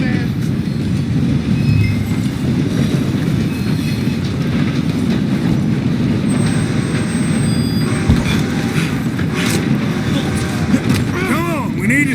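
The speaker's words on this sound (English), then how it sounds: "Come on, we need to stop this train." Steady rumble and clickety-clack of a moving train in Red Dead Redemption 2, running continuously underneath voices talking.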